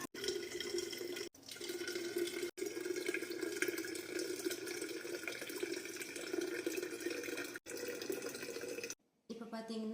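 Tap water runs steadily into a container, filling it for making amla and beetroot juice, with a few brief cut-offs and no talk.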